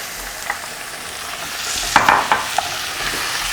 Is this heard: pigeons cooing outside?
no